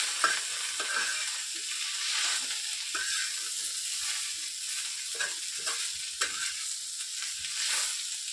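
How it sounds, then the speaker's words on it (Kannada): Oil sizzles steadily in a pan as vegetables fry for a North Karnataka pundi palya, with frequent stirring scrapes over the hiss; close and continuous, with no talking. "ಸ್ವಲ್ಪ ಎಣ್ಣೆ ಹಾಕೊಳ್ಳಿ ನಂತರ ಅದನ್ನು ಫ್ರೈ ಮಾಡಿಕೊಂಡು"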